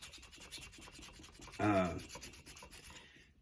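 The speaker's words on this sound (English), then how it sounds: "we're going to sand some of this paint off" Sanding paint off a small plastic model tank part: a brief, close rasp of abrasive rubbing in the middle, with quieter handling and soft scratching before and after.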